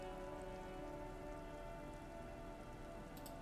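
Steady rain falls in the video game Disco Elysium, a constant dense patter of drops on hard surfaces with no voices.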